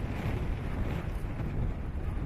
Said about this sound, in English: The wind howls through Clare Street.